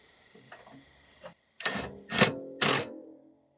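A bolt being screwed in while fitting neon reverse lights into turn signals, heard as a few soft clicks followed by three loud, close, broadband bursts of scraping and ratcheting, each lasting about half a second.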